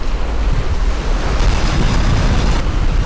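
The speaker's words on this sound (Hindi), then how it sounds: "ये आवाज, पानी भर रहा है।" Water filling up, used as a sound effect in a short film: a loud, steady rushing wash of water that runs continuously and close for about three seconds, with no voices.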